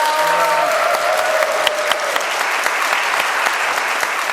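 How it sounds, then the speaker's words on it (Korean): A church congregation claps steadily and fairly loudly throughout, with a brief cheer and crowd noise early on. "자, 박수 한번 부탁드리겠습니다"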